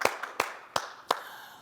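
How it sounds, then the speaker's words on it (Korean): Several sharp hand claps from a church congregation during a worship service, four distinct bursts spaced about a third of a second apart, fairly close and without any talk. "다시 한번 박수로 영광 돌리겠습니다"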